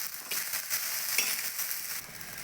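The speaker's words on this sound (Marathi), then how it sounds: "मस्त अशा मिरच्या आपल्या भाजत आहे आता टाकून घेऊयात तेल घेऊयात मस्त हलवून" Green chillies roast in hot oil in a pan, giving a close, steady sizzle and crackle with stirring, heard alone without talk.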